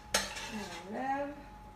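A slotted spoon clinks against a frying pan as cooked meat is scooped out, with one sharp metallic tap followed by faint scraping, quiet and close.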